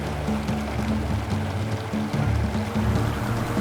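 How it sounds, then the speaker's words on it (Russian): A fast river current swollen by rain carries rafts during a multi-sport race: a continuous rushing, churning roar of water, close and steady, with a faint low tonal hum running underneath. "Воды в речке в этом году было прилично, еще и вчерашний дождик помог, поэтому течение несло участников очень быстро."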